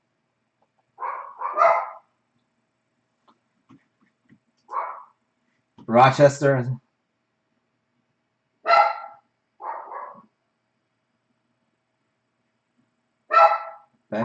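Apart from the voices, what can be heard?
dogs barking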